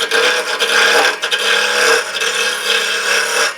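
A woodturning lathe roughs out a wooden toothpick holder, the gouge producing a loud, continuous scraping rasp with brief dips as the cut shifts, close and without talk.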